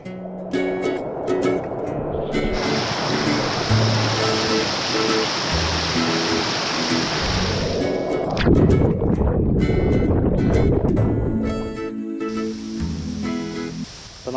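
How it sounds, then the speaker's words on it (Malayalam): Pampanal waterfall in a rubber plantation near Maanathoor, Pala: a constant loud rushing roar of falling water, close by and continuous, swelling slightly partway through. "അപ്പോൾ നമ്മളിതേ വെള്ളച്ചാട്ടത്തിൻ്റെ താഴത്തെ തട്ടിലെത്താറായി"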